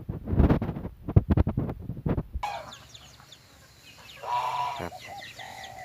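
Farm poultry, a mix of chickens, ducks and geese, heard in a rural setting. Loud close clucking and squawks come first, then quieter scattered calls and honks further off.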